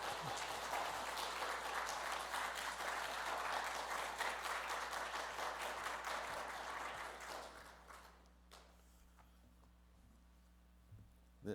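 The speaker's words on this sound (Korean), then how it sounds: "박수로 환영하겠습니다" A church congregation claps in welcome for the pastor at a Sunday worship service, with broad sustained applause that fills the room, then fades after about eight seconds to a quiet hum with faint sounds.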